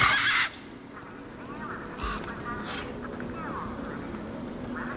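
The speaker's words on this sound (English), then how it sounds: "These were tough desert birds." Tough desert birds in the video game Beyond a Steel Sky squawk and honk in repeated goose-like calls, mixed with a voice talking over them.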